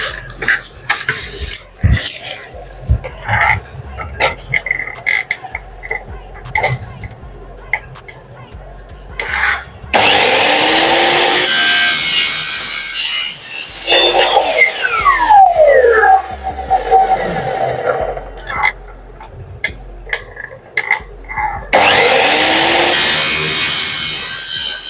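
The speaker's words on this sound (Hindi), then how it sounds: "हम इस साइड की कलम काट देते हैं" Saw cutting a 45-degree mitre on the edge of a metal glass-door profile frame for a modular kitchen door, with a loud, sustained rasping whine in two long bursts, separated by quieter clattering handling noises.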